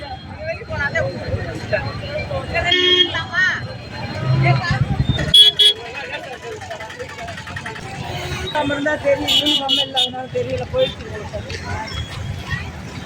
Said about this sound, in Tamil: இந்த டிராஃபிக்கா இருக்குல்ல